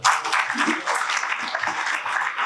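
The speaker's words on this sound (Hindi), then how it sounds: "इनके लिए ताली बजाइए साहब" An audience at a business seminar bursts into loud, dense applause, the clapping steady and close throughout the short stretch.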